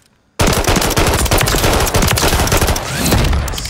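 An automatic shotgun fires in a video game, a loud, relentless stream of rapid blasts that bursts in after a brief silence and keeps going to the end.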